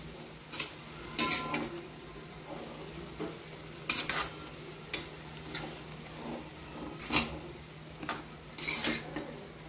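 Spatula scrapes and taps in a pan while dill (shepu) vegetable is tossed with salt, giving sharp irregular clinks and scraping strokes close by over a faint background hum.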